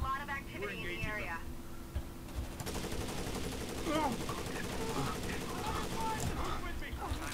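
Rapid gunfire bursts hammer at the player in the tactical shooter Rainbow Six: Vegas 2, a dense crackling barrage that runs for several seconds, loud and close, mixed under radio-style game chatter.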